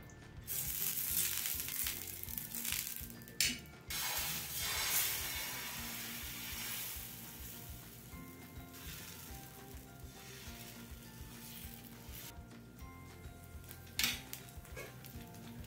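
Tomato vegetable omelette batter sizzles steadily in a hot pan, a dense close hiss with occasional utensil clatters against the pan, and no talking.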